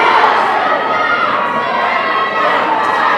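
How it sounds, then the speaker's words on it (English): An indoor netball crowd at a 21-and-under World Cup match between Australia and New Zealand roars steadily, a dense, loud wash of cheering and shouting that holds at full level throughout. "The crowd really lifting now that this game is back to even."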